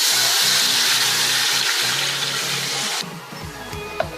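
About 1.5 litres of water pours into a pot of kadhi holding a yogurt and gram-flour mixture, a loud, steady rushing gush that stops abruptly, leaving quiet kitchen clinks.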